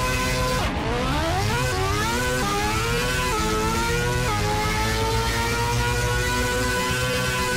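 A four-rotor turbocharged rotary drag car in Bounty Drag Racing revs at full throttle to build boost, a loud, steady, buzzing engine wail that rises in pitch in stepped sweeps and holds high, with no talking.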